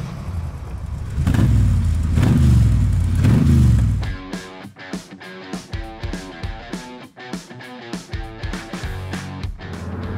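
A carburetted V8 in a Shelby Cobra replica roars loudly under acceleration for several seconds, then settles into a choppy, lumpy idle with rhythmic blips of the throttle, close to the car.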